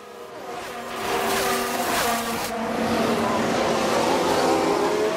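Race cars in the F1 Manager 2022 video game at Bahrain, engines droning and whining steadily and fairly loud during a crash that brings out the safety car, with a faint voice underneath.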